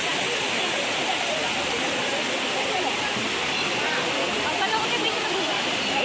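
Waterfall inside a dense forest on Malyagiri hill, a steady, loud broadband roar of falling water that holds constant throughout with no pauses.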